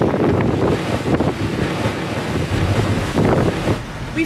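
Large ocean waves and strong wind batter a boat at sea in waves about six metres high. Gusty buffeting rushes across the microphone and irregular surges of surf and spray rise and fall throughout. No one speaks.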